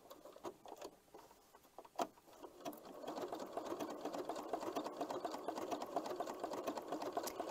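Sewing machine running a zigzag blanket stitch at 2.5 width and length with gray thread, sewing tulip applique on a scrappy quilt; a few taps and clicks, then a steady close mechanical whirring patter that continues to the end.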